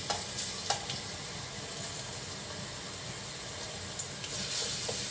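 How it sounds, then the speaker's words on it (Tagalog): Chopped garlic frying in hot oil in a wok for pakbet gives a steady, close sizzling hiss, with a few sharp crackles and light stirring clicks scattered through it and no talking. "ilagay na natin yung ating bawang."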